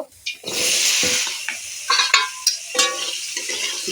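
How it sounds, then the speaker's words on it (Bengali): Salt and turmeric coated potatoes sizzling in a hot karahi, with steady frying hiss and intermittent stirring scrapes and utensil clinks close by. "নুন আর হলুদ মাখানো আলুগুলোকে আমি কড়ায় দিয়ে দেব"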